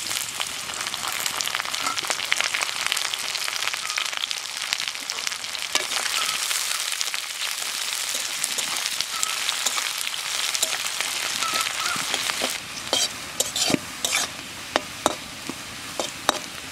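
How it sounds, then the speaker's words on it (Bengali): Onions fry in a pan, part of cooking a bottle gourd dish, giving a continuous dense sizzle up close, with sharper clacks and scrapes of a spoon stirring toward the end. "পেঁয়াজ ভাজা হয়ে গেছে,"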